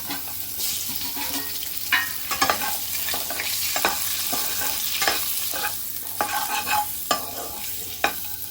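Eggs are stir-fried in masala on low heat for an egg and spinach curry, with a continuous sizzle under repeated spatula scrapes and knocks against the pan every second or so, close and fairly loud.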